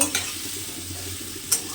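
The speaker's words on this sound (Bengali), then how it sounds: "এবার একটু ভাজা ভাজা করব" Ingredients for an egg curry fry and sizzle in a pan while being stirred, with a steady hiss broken by a couple of brief scraping clinks of a utensil against the pan.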